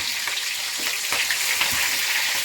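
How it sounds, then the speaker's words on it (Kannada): Green chillies dropped into hot oil sizzle loudly and continuously, a bright hissing fry up close with small pops and spatters scattered through it, and no one speaking. "ಎಣ್ಣೆ ಕಾದಿದೆ ಫಸ್ಟಿಗೆ ಇವಾಗ ಮೆಣಸಿನ್ಕಾಯಿ ಹಾಕೋಣ"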